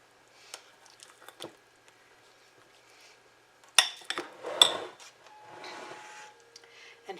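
Sweetened sliced strawberries are folded into a filling in a bowl with a spoon, giving soft, wet squishing and a few clinks against the bowl, close and fairly quiet, with gaps in between.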